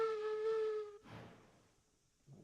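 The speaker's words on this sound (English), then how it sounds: "2 whistles to go forward." A steam locomotive whistle blows in the railroad video game Railroads Online, one strong steady tone lasting about a second, then a hiss of steam and a short burst of noise near the end.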